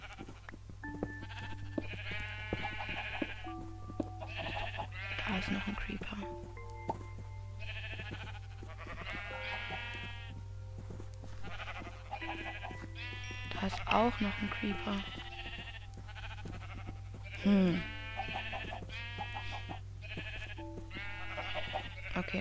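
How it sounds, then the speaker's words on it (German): Sheep bleat repeatedly in the video game Minecraft, short wavering calls scattered through the clip under steady talk in German, with game music and ambient hum beneath. "Die ganzen Schafe hier unten."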